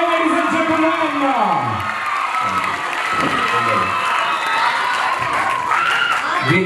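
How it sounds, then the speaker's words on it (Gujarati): A crowd at a school event applauds a rangoli competition winner, with clapping and cheering blending into a loud, continuous wash. Children shout and whoop through it, and a voice speaks at moments over the noise. "જોરદાર તાળીઓ થઈ છે, ladies and gentlemen."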